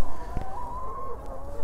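A hen clucks close by on a free-range chicken farm, a short throaty call over a low background hum.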